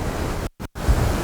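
Rough sea waves churn with a loud, continuous roar and wind buffeting the microphone, interrupted by two brief cutouts before the surf returns.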